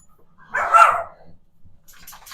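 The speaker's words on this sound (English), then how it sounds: "And excuse the dogs." A dog gives one loud, close bark, followed by fainter, higher yelps a moment later against a quiet background.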